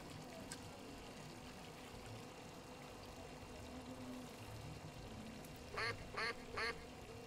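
Three short cartoonish duck quacks from a duck-shooting video game sound out near the end, quick and evenly spaced over a low steady background hum.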